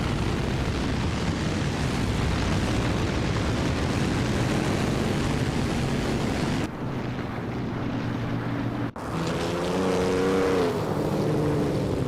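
A 1938 Maserati 8CTF race car engine in a video game race, a steady loud roar that fills the whole clip with a sharp cutoff and pitch shift near the end, a rising engine tone following.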